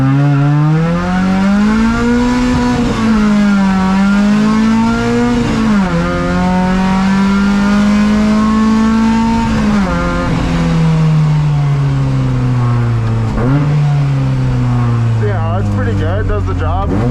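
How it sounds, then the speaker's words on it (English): Lightweight naturally aspirated drift car with about 150 wheel horsepower and short gearing accelerates hard through the gears, engine note rising and dropping at each shift, loud and close, with speech over the top. "You know, it actually accelerates pretty good."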